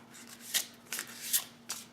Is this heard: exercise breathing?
no